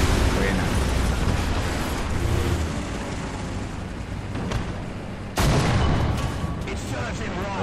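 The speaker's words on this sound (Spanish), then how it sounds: "tengo que darle a la ametralladora" Heavy gunfire from a 3-inch gun carrier in War Thunder's battlefield, a dense continuous roar of shots and booms with a sharp louder blast near the end, no voice over it.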